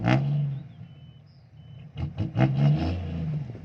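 A backhoe excavator engine revs in uneven bursts, rising and falling with some clatter, close by and fairly loud.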